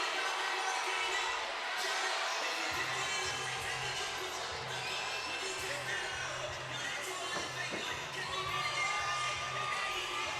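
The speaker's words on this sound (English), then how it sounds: "Capacity crowd here at the Masonic Temple." A capacity crowd at a women's boxing fight in the Masonic Temple roars and cheers steadily in a large hall, with shouts and whoops rising out of the constant dense din.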